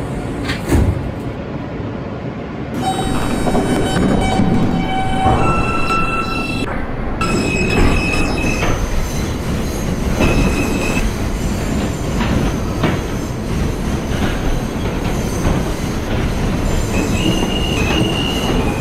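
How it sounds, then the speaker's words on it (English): Roblox R160 subway train on a Queens-bound M local run on the Myrtle Avenue Line: a steady, loud rumble of rolling wheels with rattling, clanking cars and occasional high metallic squeals throughout. "This is a Queensbound M local train."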